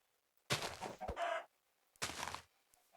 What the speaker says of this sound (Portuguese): Nossa, quanta galinha, hein?